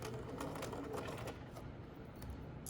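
A sewing machine stitching close to the folded edge of a patch pocket, a steady rapid mechanical chatter at close range, running continuously and easing slightly toward the end, with no talking.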